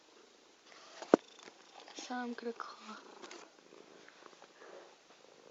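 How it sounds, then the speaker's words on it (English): A pet cat purrs softly close by while a person talks over it, with a sharp click and some handling noise partway through. "this is my cat."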